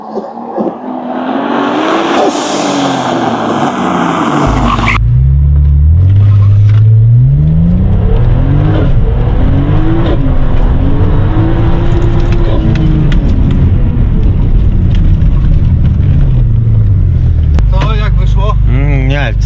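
A turbocharged BMW E39 with an M50B30 engine and 8HP gearbox, rated at 604 hp, does a burnout, spinning its tyres against the brake. The engine revs loudly and harshly with sweeping pitch changes, close by, and voices occasionally break through.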